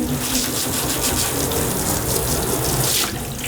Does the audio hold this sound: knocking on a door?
no